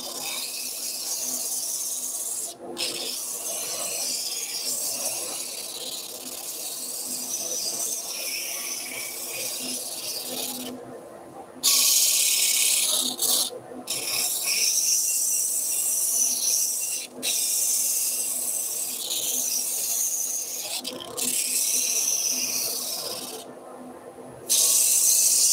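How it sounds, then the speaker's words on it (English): Sandpaper rasps against a wooden German nutcracker being sanded down to a marked line, a continuous close scratching hiss broken by a few brief pauses. "now we can sand to our line"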